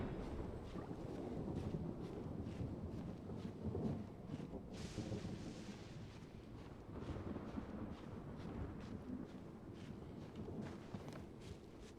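Bale Thunder lightning strike in the Genshin Impact video game: a loud, rumbling roll of thunder with a sharp crack midway, sustained over a windy, stormy wash of noise, with no speech.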